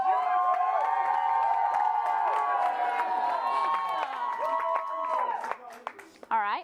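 An audience loudly cheers and shouts together to vote for a Face Off winner at a sports show, a sustained roar of many voices that fades and breaks up near the end.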